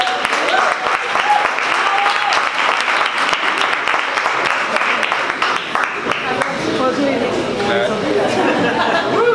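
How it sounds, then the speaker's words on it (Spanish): Audience applause at a live science talk on language, sustained steady clapping from a crowd filling the whole stretch, with some chatter mixed in beneath it. "Un aplauso, por favor."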